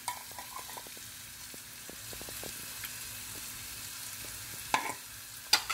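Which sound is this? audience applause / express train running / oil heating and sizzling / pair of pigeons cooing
oil heating and sizzling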